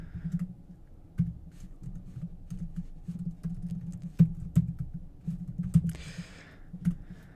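Sparse, soft keystrokes on a computer keyboard, scattered taps and clicks over a low room hum, hesitant rather than fluent typing.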